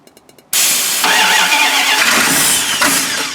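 A 1976 Winnebago Brave motorhome engine, long abandoned, cranks and catches on a jumped ignition, then runs loud and steady at a rough idle close by, after a few faint clicks.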